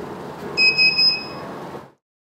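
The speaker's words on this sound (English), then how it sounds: "When the buzzer sounds 3 times, it means that the DOFBOT boot process has started normally." A DOFBOT robot's buzzer beeps three times in quick succession at boot, short electronic tones over a steady fan-like hum that then cuts to silence.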